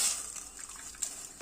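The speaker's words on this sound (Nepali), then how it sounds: "अब मजाले चलाउँदै पकाउनुपर्छ।" Sweet corn kheer simmering in whole milk, stirred with a spoon in a pot, giving a soft bubbling sizzle with light scraping strokes and a small clink near the end, close and fairly quiet.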